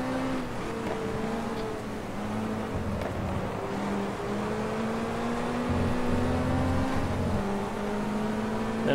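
Racing car engines in the GT Legends video game, including a Mustang, drone steadily with shifting pitch as they rev and accelerate, several engine tones layered and continuous with no talk.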